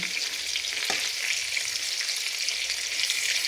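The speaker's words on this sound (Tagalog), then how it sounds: "Saka mas masarap mas maganda kapag yung brown ang pagkaluto niya, yung fried" Meat and aromatic vegetables fry steadily in a pan until browned, a continuous close hiss and crackle with a brief stirring scrape near the start and no talk.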